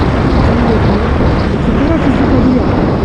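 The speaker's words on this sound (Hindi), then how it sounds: "और इस बाइक को अगर हम पिकअप भी देते हैं" A 2022 Hero Passion Pro motorcycle accelerating, its loud, close, rumbling engine roar steady throughout while someone talks over it.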